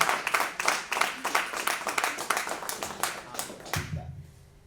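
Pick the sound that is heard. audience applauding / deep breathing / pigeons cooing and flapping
audience applauding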